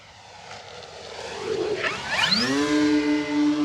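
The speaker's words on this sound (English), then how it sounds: "it doesn't really scream, it's just more of a loud whoosh" An E-flite Carbon Z radio-controlled propeller plane roars closer, its rising whoosh swelling into a loud, steady high-pitched drone as it sweeps past nearby.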